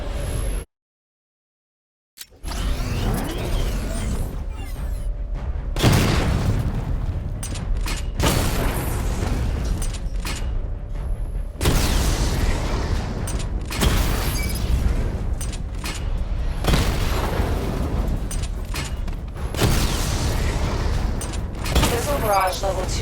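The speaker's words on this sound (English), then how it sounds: "Charge the missile barrage to level 2 to destroy up to 4 targets at once" Missile barrage explosions in Batman: Arkham Knight, a dense run of loud booming blasts and rumbling impacts after a brief silence, repeating in waves over continuous battle noise.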